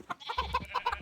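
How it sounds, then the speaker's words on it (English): Chickens cluck in a DawnCraft farm pen, a quick run of short, close clucks and chirps in an uneven rhythm, with no voices over them. "One of the chickens got out."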